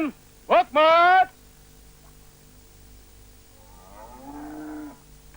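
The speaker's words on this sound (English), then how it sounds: "Cattle! Over the ridge!" Cattle moo from over a ridge in open country, two loud close lows early on and a fainter drawn-out moo later over a quiet background hiss.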